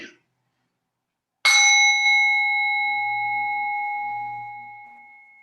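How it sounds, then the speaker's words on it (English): A meditation bell is struck once to open a yoga session, ringing out clearly with a bright strike and a long, pure shimmering tone that fades slowly, heard alone with faint background sounds. "you'll hear the bell to bring us in, and again to bring us out for a couple minutes."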